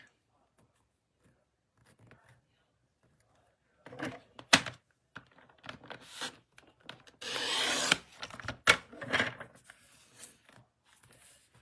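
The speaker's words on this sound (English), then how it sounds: "I'm going to cut it into 3 1/2 inch strips" A new blade cuts material into half-inch strips, making a few brief scraping strokes and one longer rasping rub, close and fairly quiet, separated by near silence.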